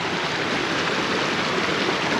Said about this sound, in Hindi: देखो ये गधेरे, देखो कैसी आवाज़ आ रही है।